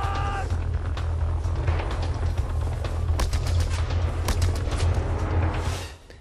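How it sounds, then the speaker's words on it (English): Enemy gunfire in the Just Cause 2 video game: repeated sharp shots and bursts crackling over a constant low engine-like rumble, moderately loud and continuous, with no talk, fading out at the very end. "now they're all trying to shoot me"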